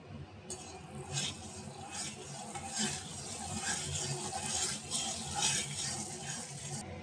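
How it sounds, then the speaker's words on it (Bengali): Paneer frying in ghee in a pan with a little turmeric and salt: a steady, close crackling sizzle running throughout, with brief stirring scrapes, no talk. "এখানে আড়াইশো গ্রাম পনির আছে পনিরটা আমি ভেজে নেব"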